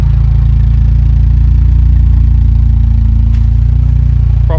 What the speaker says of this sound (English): it's got a nice note now the exhaust is hooked up